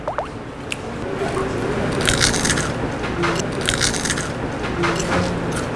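Close, crunchy bites into a crispy fried dumpling, with wet squishy chewing of the moist center and crisp crackles over a steady background; no speech.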